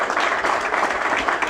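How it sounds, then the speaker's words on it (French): A crowd at a formal speech event breaks into brief, lively applause, many hands clapping together in a dense, steady burst from start to finish. "applaudissez cette grande dame"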